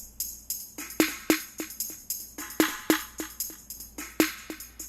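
An electronic drum pattern runs through a delay effect in Ableton, its sharp, fairly quiet hits each trailed by fading echo repeats in a steady, looping rhythm.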